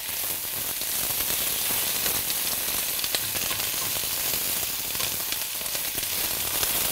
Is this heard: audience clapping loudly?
no